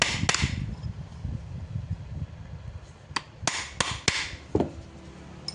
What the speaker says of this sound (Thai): ตอกเพื่อจะส่ง ฝาปั๊มให้มันถอยออกไปอีก